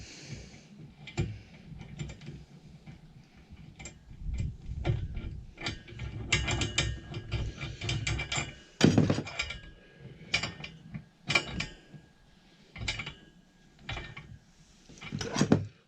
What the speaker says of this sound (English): I'm back to using my spanner spoon again, spoon spanner. I will actually get these tightened in properly